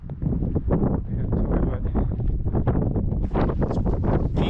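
Strong, gusty wind buffets the microphone outdoors at night on Mt. Timpanogos, roaring steadily with rustling surges throughout and no other clear sounds.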